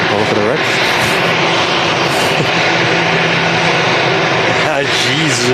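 easyJet airliner at Manchester Airport, a loud continuous engine roar with a steady droning tone, while excited voices talk over it.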